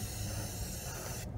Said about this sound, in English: spray it right over the place that you want it